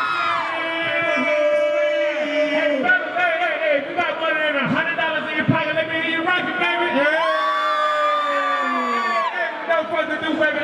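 A large concert crowd at a live show screams and cheers continuously, a loud roaring wash of voices with whoops rising over it.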